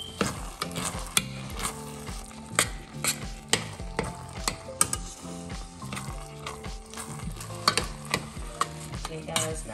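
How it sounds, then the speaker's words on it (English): A spoon scrapes and clinks against a pan while stirring Spanish rice, irregular close metallic taps and scrapes over a faint sizzle. "I'm gonna come along and stir it again."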